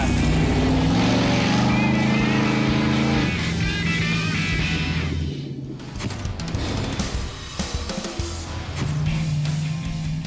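An old Ford F100 pickup, running a little rough, is driven hard around a road course, its engine loud and close with rising and falling revs and a brief lift-off midway.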